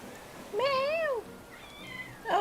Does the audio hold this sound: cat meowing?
yes